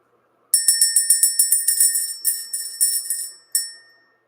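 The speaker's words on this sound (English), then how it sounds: "We're going to ring this bell, clear out this energy" A small hand bell is struck in a rapid series of bright, ringing dings, about a dozen close strikes, followed by a pause and one final ring, with no talking.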